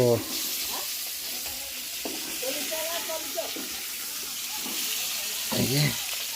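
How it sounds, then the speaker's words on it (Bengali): Prawns fry in hot oil in a wok with a dense, continuous sizzle and bubbling, stirred with occasional scrapes, while voices talk nearby. "আচ্ছা এই চিংড়ি মাছগুলো ভেজে রাখবে নাকি"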